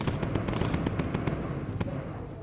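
Incendiary bombs going off in the Bomber Crew World War II bomber game, a rapid string of crackling pops and thuds over a rumbling engine drone, moderately loud and continuous.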